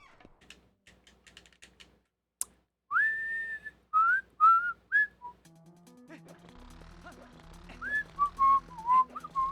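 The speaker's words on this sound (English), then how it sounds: "I don't know why I'm whistling." A person whistles a short, bright tune in clear, close phrases with brief pauses, preceded by soft clicks and a sharp tap, with faint game sounds underneath.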